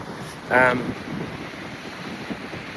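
Steady wind blowing along the west coast of Florida on the tail end of a tropical storm, a constant low rushing roar with microphone buffeting, and a brief voice near the start.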